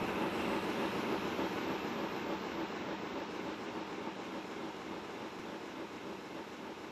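A doubleheader of two John Bull duplex steam locomotives rolls past in a steady, loud, continuous rumble with faint rail clatter, the sound easing slightly as the train moves on.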